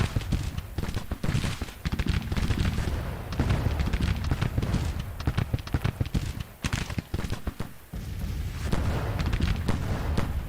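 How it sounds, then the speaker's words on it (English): Musket volleys in the Civil War strategy game Grand Tactician, a dense, continuous crackle of massed rifle fire with booming reports, steady and loud throughout with brief dips. "Seems like we're all firing volleys at this brigade and it's just not losing that many men."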